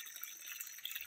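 A natural spring on a farm bubbles and trickles softly in the open air, a quiet continuous flow with small bright drips, steady and fairly faint, with no voices.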